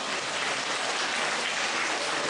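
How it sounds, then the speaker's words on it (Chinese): An audience at a Q&A session in Frankfurt, Germany breaks into applause, a dense wash of clapping held evenly throughout, moderately loud, with no talk over it. "鼓掌啊！"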